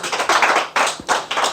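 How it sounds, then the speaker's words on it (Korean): Clapping from an audience of about a hundred people in a lecture hall, heard as a brief ragged burst of applause in several quick swells. "100명이 박수 치니까 이게 잘못하면 무너져"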